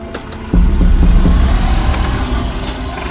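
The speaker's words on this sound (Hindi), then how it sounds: "जुबैर ने हिम्मत जमा की और बाइक चलाने लगा।" A motorcycle engine starts up with a sudden rise in rumble, then runs steadily at a low throaty idle, close and fairly loud.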